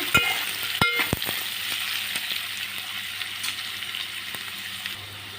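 Onion frying in a pan for a dried prawn and tamarind leaf curry, a continuous close sizzling hiss with a few quick spatula knocks near the start and occasional faint clicks, no voices.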